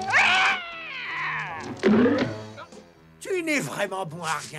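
A cartoon cat from The Smurfs meows and caterwauls in loud, drawn-out, wavering cries. Someone speaks French over and between them.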